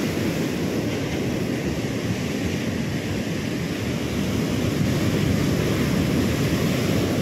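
Ocean waves breaking and surging on a shore, a steady loud rush of surf with wind across the full clip, no voices.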